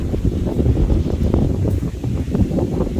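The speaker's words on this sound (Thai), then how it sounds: "โอ้ยลมแรง" Strong wind buffets a microphone outdoors in a garden, a steady loud low rumble with gusty surges throughout and no talking.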